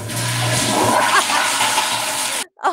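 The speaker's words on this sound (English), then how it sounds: "And then the toilet flushes." A toilet flushes in a live-streamed bathroom setting, a loud, steady rush of water that lasts about two and a half seconds before cutting off abruptly.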